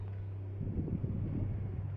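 Wind blows across a rooftop in cool open air, a low buffeting rumble swelling midway over a steady droning hum, with no voices heard.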